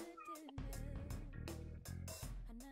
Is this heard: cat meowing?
yes